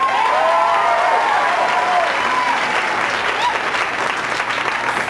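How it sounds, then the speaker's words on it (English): Comedy club audience at a New Year's show applauds with scattered whoops, steady and full at first before thinning slightly toward the end. "And how many people here, by applause, are single?"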